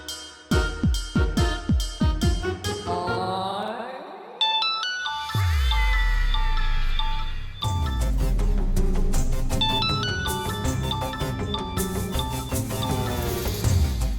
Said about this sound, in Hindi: your phone is ringing I guess